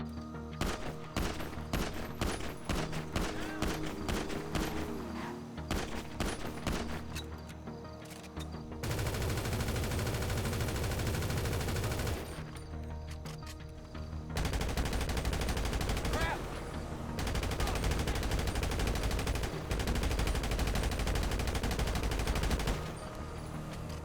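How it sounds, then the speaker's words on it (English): Gunfire from the video game GTA 5, with repeated shots and sustained bursts of automatic fire, loud and continuous with brief gaps between volleys. "GTA 5 has some of the worst gun sounds since the 3D GTA games"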